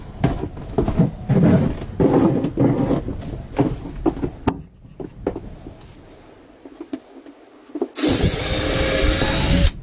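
A power drill drives screws into the wooden frame of an attic ladder, buzzing in short repeated bursts, with a brief lull and then a loud sustained whirring run at the end.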